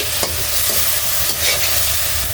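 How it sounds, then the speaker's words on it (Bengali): Spices with a torn bay leaf sizzle steadily while being stirred and scraped in a hot pan for a koi fish curry, a continuous loud frying hiss with small clinks and no talking. "আমি এখন ভালোভাবে কষে নেব"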